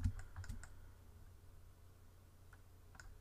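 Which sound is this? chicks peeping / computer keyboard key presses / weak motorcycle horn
computer keyboard key presses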